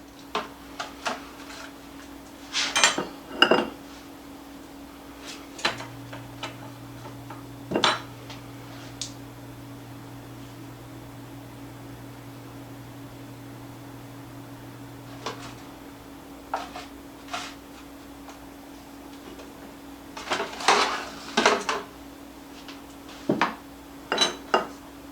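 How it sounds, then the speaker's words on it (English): Thick soda bread dough is transferred into prepared baking pans, with scattered metallic clinks and taps of utensils against pans in short bursts separated by quiet stretches, plus a faint steady hum. "now we're going to put it into our prepared pans"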